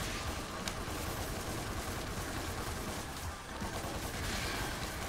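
Enemy gunfire in the action game DmC: Devil May Cry rattles on in a dense, continuous fusillade of rapid shots, loud and unbroken, with a brief dip near the middle.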